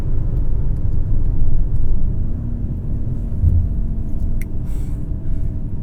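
A 2023 Mercedes-Benz GLE 450 seven-seater with a nine-speed automatic gearbox, heard from inside as a steady, loud low engine drone and road rumble under hard acceleration, rising slightly in pitch and holding without pause.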